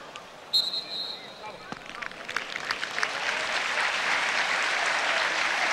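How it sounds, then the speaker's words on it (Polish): A stadium crowd at a UEFA Cup football match between Zagłębie Lubin and Dynamo Minsk breaks into applause for a fair-play gesture, swelling from scattered claps into broad, sustained clapping, with a commentator speaking over it. "Teraz zasłużone brawa dla białoruskiej ekipy za gest fair play"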